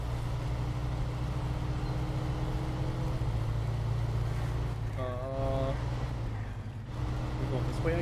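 Truck engine in the SnowRunner video game, a steady low droning rumble with a brief revving rise midway, close and continuous, with a person talking briefly over it.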